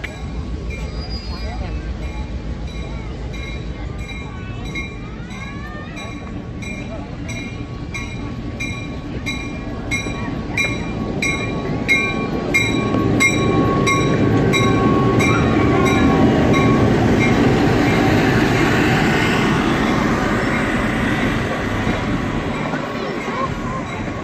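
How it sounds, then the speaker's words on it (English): A Thomas the Tank Engine train rumbles closer and grows louder, its steady mechanical drone swelling over the second half, with faint voices and outdoor background noise. "So the train is coming."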